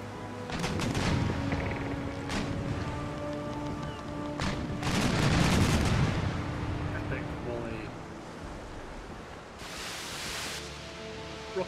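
Warship cannons fire broadsides in the naval battle game Empire: Total War. Several deep booming blasts are scattered through the span, with a heavy rumbling cluster in the middle and another blast near the end, over steady sea and battle ambience.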